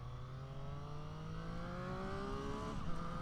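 A 2022 Triumph Street Triple RS 765 motorcycle on a test ride, its engine droning in a steady rising tone as it pulls through the revs, smooth and continuous with wind noise beneath, heard from on board.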